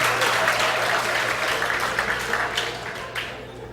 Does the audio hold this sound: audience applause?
yes